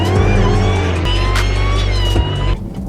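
A supercharged Dodge Charger Hellcat Redeye accelerating hard, a loud, close, continuous engine roar with supercharger whine that climbs through gear changes before easing off at the end.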